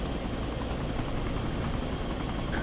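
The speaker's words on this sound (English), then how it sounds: "who's still flying a chopper?" A helicopter in a multiplayer combat video game gives off a steady, dense rotor and engine drone that holds at an even level for the whole stretch, with no pauses or breaks.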